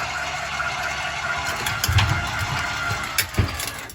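A stabilizer jack motor on a 2022 Heartland Pioneer RD210 travel trailer runs with a steady mechanical whine and faint grinding, straining briefly as load comes onto it, close by and without speech.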